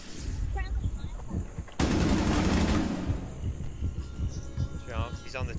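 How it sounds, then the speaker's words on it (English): Tachanka's mounted gun in Rainbow Six Siege rattles off a loud, dense burst of automatic fire lasting about a second, with game effects and voices around it before and after. "He's on the Tachanka gun."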